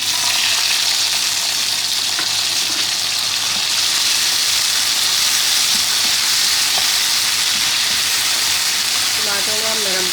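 Tomatoes frying in a pan for a maghaz fry dish, a loud, steady, hissing sizzle that continues unbroken throughout, with faint stirring noises and no clear speech over it.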